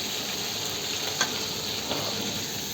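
Food fries in a pan while cooking for a Bengali kakra and onion recipe, giving a dense continuous sizzle at steady loudness, with a couple of faint stirring clicks and no talking.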